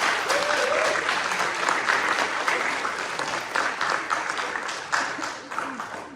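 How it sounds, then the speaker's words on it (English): Audience applause for visitors at a high school senior awards ceremony, steady, dense clapping from a large crowd that fills the whole stretch and tapers slightly toward the end. "for all of our visitors that are here with us today, let's give them a round of applause"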